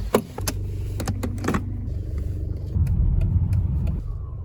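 A car engine rumbles steadily at close range. There are a few sharp clicks early on, and the engine swells louder partway through.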